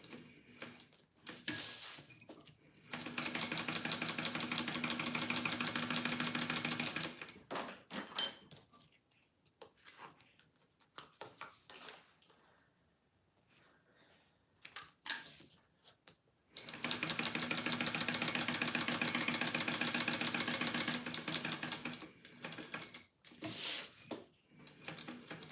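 A sewing machine stitching fabric around a drawn rectangle for a purse's zipper pocket, in two long steady runs of rapid stitching, each several seconds, separated by quiet pauses with small handling clicks.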